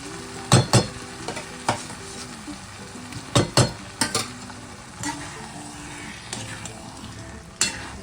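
A spoon stirring thick dal chorchori with softened potatoes and green chilli in a pan, irregular loud scrapes and knocks against the metal over a low sizzle, close by.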